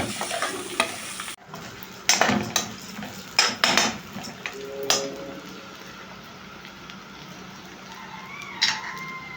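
Rice being stirred with seasoning in a cooking pot, with repeated scraping and clattering strokes of a utensil against the pot, loud bursts between quieter stirring.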